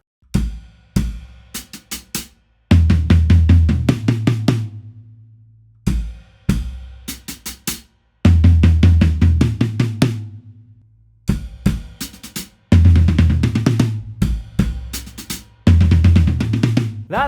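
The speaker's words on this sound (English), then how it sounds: "Which, when played with the first part of the drum intro, sounds like this." A drum intro played on hi-hat, floor tom and rack tom: repeated phrases of quick tom strokes with hi-hat ticks, pausing between groups, played close and loud without talk.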